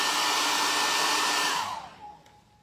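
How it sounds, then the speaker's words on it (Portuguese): A hair dryer blows to dry glue on an MDF base, a loud steady rushing whoosh close by that cuts off and winds down to a faint hum, no talk. "Sei que o barulho do secador é muito bom."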